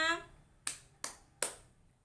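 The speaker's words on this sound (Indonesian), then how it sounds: "Beri tepuk tangan untuk kita semua." Three sharp, separate claps in a primary-school Indonesian language class, evenly spaced and fairly close, just after a brief voice.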